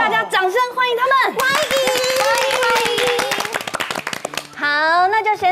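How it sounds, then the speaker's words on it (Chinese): A classroom of children claps in dense, lively applause to welcome two new classmates, with excited young voices speaking over it before and after. "大家掌声欢迎他们！"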